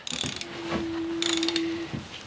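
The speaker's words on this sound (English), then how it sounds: "just taking off the 4 bolts on the back right here so that we can get this back end off" A ratchet wrench loosening bolts on the back of a Ford three-speed top-loader transmission during a rebuild, giving quick close clicking bursts at the start and a longer run of ratcheting with a faint tonal hum.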